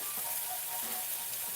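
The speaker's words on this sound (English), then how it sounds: "We're making a stir fry with noodles." Noodles in a hoisin stir-fry sizzle steadily in a hot pan, a close, continuous crackling hiss with no talking.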